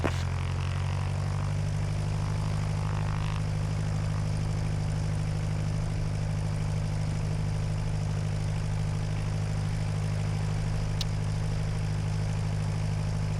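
Propeller airplane taxiing for departure, heard from inside the cabin as a steady loud low engine drone with a constant propeller hum running unbroken throughout, no voices.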